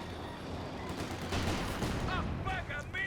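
Battle sounds from Company of Heroes 2 rumble with repeated mortar and gun fire, a series of deep thuds and crackling bursts, while a commentator talks over the action.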